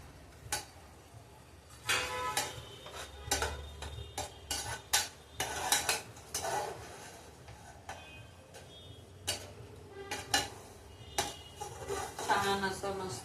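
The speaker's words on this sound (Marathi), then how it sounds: "छान असं मस्त ब्राऊन कलरवर भाजून घ्यायचा" Semolina roasting in ghee for sheera, stirred in a pan with repeated close spoon scrapes and clinks against the metal over a soft sizzle, irregular and busy throughout, no speech.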